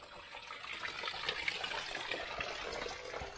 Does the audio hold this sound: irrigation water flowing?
yes